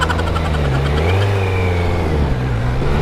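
A stock Kawasaki Z900 motorcycle engine revs loudly and close, its pitch rising and falling in sweeps without a break across the clip.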